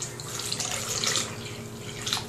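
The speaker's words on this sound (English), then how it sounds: "So I like to add a little bit of water." Water runs from a kitchen faucet into a blender still holding remnants of blended beans, a steady close splashing gush for a couple of seconds without speech.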